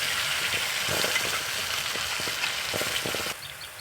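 Carrot pieces fry in hot ghee in a pan, giving a steady close sizzle with faint stirring clicks throughout, dropping slightly quieter near the end.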